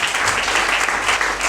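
A church gathering breaks into steady applause, many hands clapping in a loud, continuous wash for a brief moment.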